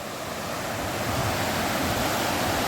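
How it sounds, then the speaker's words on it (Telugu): Floodwater of the swollen Godavari river pouring over a dam, a loud, steady broadband roar of rushing water that holds unbroken throughout, with no voices. "గోదావరి వాటర్ ఫ్లడ్ ఫుల్గా ఉండడం వల్ల అయితే మనకైతే డ్యామ్ మొత్తం ఓవర్ఫ్లో అయిపోతుంది"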